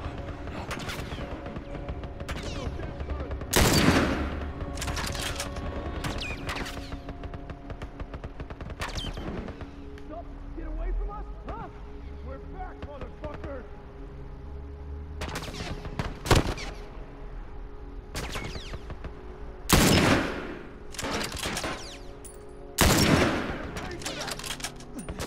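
Gunfire in a video game shootout: loud, sharp shots and short bursts recurring at irregular intervals over a steady background hum, some close and punchy, others fainter and more distant.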